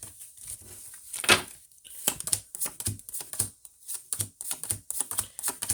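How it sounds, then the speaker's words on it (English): Cards for a love reading are shuffled and pulled, giving a quick run of crisp snapping and flicking clicks in uneven bursts, close and fairly loud, with no voices. "let me go ahead and pull the cards."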